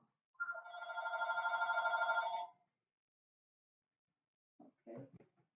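A telephone rings once in a sustained, buzzing electronic trill lasting about two seconds, loud and close. After a short silence, a couple of brief clicks or knocks follow.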